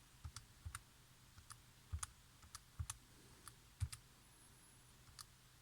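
Quiet, sparse key clicks on a TI graphing calculator's keypad tap out one at a time in an irregular rhythm, close by in an otherwise still room.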